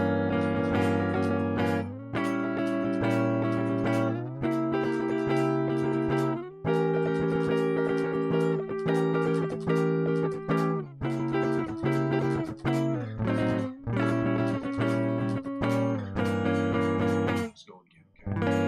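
Guitar strumming rhythm chords in steady repeated bursts, clear and close, with short gaps between phrases and a pause before the end.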